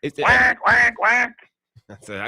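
Three loud nasal duck quacks sound in quick succession as a comic effect during a radio sports call-in show, followed by a short pause and a fainter closing sound.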